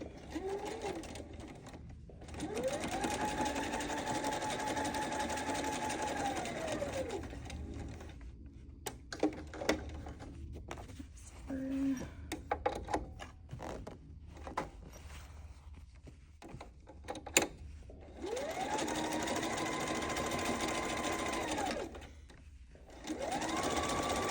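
A home sewing machine stitches a Sew Together Bag along a zipper in close, loud bursts of rapid whirring, with quiet pauses of handling and fabric shuffling between runs.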